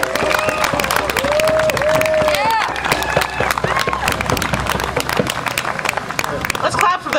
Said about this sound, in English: Let's clap for them one more time.